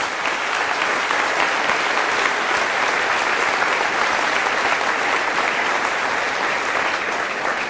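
Loud, sustained applause fills a church service, a dense steady wash of clapping from the congregation that continues unbroken for several seconds with no talk over it.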